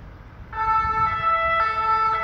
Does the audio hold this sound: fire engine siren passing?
yes